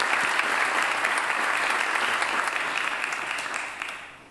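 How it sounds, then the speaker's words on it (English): Sustained applause from a graduation ceremony audience, a dense, even roar of many hands clapping that slowly fades toward the end. "Let's give him a big round of applause"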